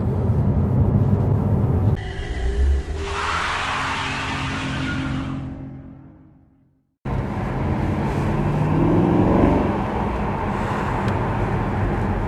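A Jaguar XK (X150) V8 on the road gives a steady, loud exhaust drone with road and wind noise, briefly fading away and then returning at full level.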